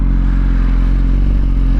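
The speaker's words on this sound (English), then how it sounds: "Oh, this exhaust sounds so good." Suzuki GSX-R1000R motorcycle exhaust revving loud and close, a steady deep engine roar with a rough clattering edge held throughout, no voices.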